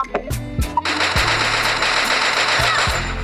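Bursts of rapid gunfire in a first-person shooter game crackle loud and close, broken by short pauses, with sharp individual shots at the start before a long sustained volley.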